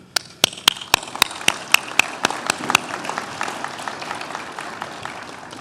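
A burst of applause at a nursing pinning ceremony begins with sharp, distinct claps that soon blend into a steady patter of many hands clapping, with no one speaking.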